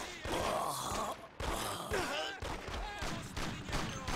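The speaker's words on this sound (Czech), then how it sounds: "No jen si vystřílej náboje, vystřílej se" Gunfire in the video game Mafia: bursts of shots in quick volleys at low level, mixed with tonal game sounds and voice-like murmurs running underneath throughout.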